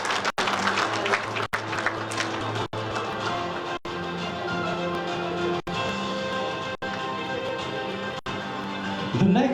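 Audience at a research festival's opening program clapping for an organisation receiving a plaque, a sustained even patter of applause with steady tonal hum beneath and a few abrupt dropouts.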